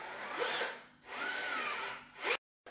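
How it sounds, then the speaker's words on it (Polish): A cordless drill runs in two sustained bursts with a brief pause between, spinning up and winding down near and loud, then cuts off abruptly into silence, during home renovation. "Co się musi naładować? Wiertarka."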